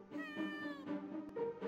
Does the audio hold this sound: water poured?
no